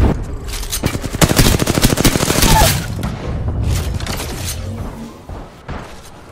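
Rapid bursts of automatic gunfire in the Apex Legends video game, loud and dense for the first few seconds, then scattered shots and thuds trailing off.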